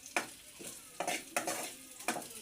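Onions and two dried chillies fry in a pan as a spoon stirs them in repeated scraping strokes over a soft sizzle, close but fairly quiet.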